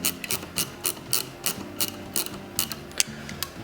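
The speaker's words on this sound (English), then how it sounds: "Put some pressure in it with the help of a screwdriver." A screwdriver turns a screw on a CTC Prusa i3 Pro B 3D printer, giving a steady series of sharp ratcheting clicks, about three per second, close up and with no talk over it.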